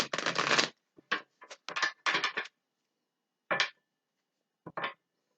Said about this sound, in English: I just like to give it a shuffle or two while you're here.